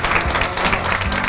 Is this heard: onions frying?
no